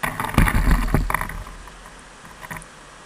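Muddy fishing-kayak anchor rinsed in the water beside the boat, with close splashing and sloshing bursts in the first second or so, then quieter water and wind noise.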